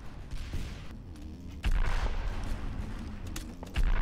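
Gunfire erupts in a free-to-play video game where a tank is being fought, with a loud burst of shots and booms over a rumbling battle background, close and dense.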